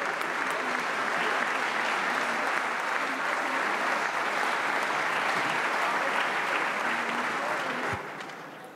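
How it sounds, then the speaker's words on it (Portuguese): Sustained applause fills a Portuguese parliament chamber during a solemn session marking 50 years since 25 November 1975, a dense, steady clapping of many hands that fades slightly at the end. "Mais um aplauso generalizado para o homem que foi um herói do 25 de novembro."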